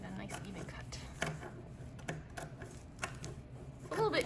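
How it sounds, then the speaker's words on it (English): Scissors trim a strip of fabric for a pillow, producing a few spaced, close snips under quiet speech. "Make sure I get a nice even cut."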